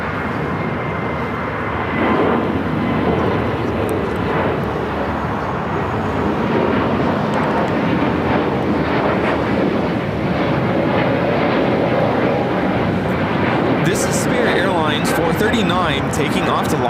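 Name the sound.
Airbus A321neo jet taking off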